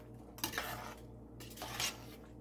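A utensil stirring sambar with dal in a cooking pot, two quiet bursts of metallic scraping and clinking over a low steady stove hum, close and faint.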